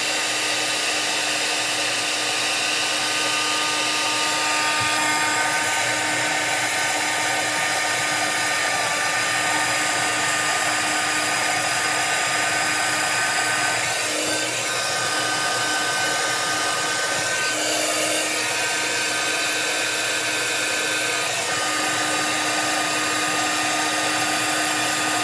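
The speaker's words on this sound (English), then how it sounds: "I'm just going to heat this from above" Heat tool blowing steadily from above onto a slimline layered card, a loud unbroken whooshing hum with a faint high whine, close and constant for the whole stretch, no talking.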